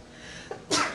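A single sharp sneeze in a classroom lecture bursts out near the end after a short intake of breath, loud and close against a quiet room.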